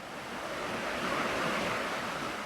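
A river in Palin, Arunachal, rushing along with a steady broadband roar of flowing water, close and continuous with no voices.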